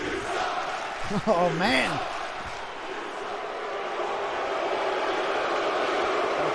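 Arena crowd booing in the wrestling video game WWE 2K20, a steady broad roar swelling and holding throughout while someone talks briefly over it near the start.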